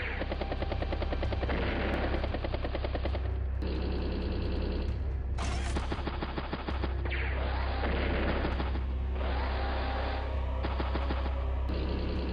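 A battlecopter unit in the game Advance Wars: Days of Ruin makes a steady low rotor drone under bursts of rapid mechanical gunfire-like effects. Short sharp blips break in between the bursts.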